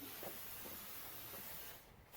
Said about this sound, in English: spray it on all your surface